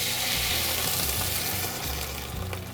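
Clams and garlic frying in a pan with a generous pour of white wine, a loud, steady, close sizzle and hiss with a low rumbling pulse underneath, no talking.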